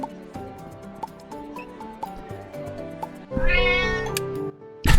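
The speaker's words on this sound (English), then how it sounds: "The meow." A cartoonish cat meows several times in an indie video game over an upbeat game soundtrack, followed by a rising sweep effect and a sharp burst at the end.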